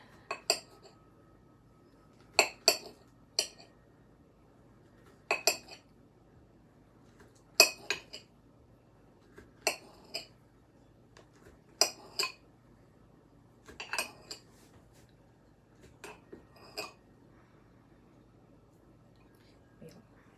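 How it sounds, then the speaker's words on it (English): Bananas are sliced into rounds with a knife, making a series of sharp clicks and taps on a board in irregular clusters, fairly close in a quiet room. "just peel your bananas and slice them up in rounds"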